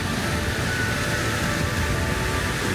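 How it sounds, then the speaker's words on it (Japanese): Rough ocean waves crash against the cliff coast of Minami Daito island, Okinawa, in winter, forming a steady, loud, broadband surf roar with no distinct breaks between crashes. "おー、波の音がなかなか。"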